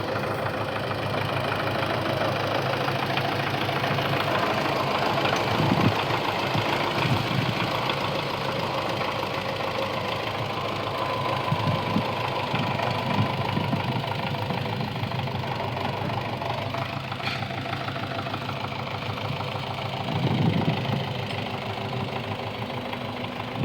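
A GAZ-53 truck's heavy engine idles with a steady low rumble and knocking chatter, continuous and close, with faint clanks in the background.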